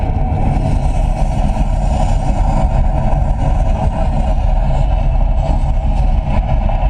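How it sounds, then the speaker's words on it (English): A simulated rocket liftoff on the Epcot Mars mission ride, a loud continuous deep rumble and roar that fills the whole stretch without pause and with no voices. "We have main engine start. 5, 4, 3, 2, 1. Liftoff."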